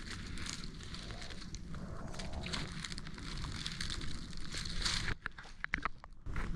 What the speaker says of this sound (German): nachdem das Holz geholt ist, das Feuer fürs Abendessen steht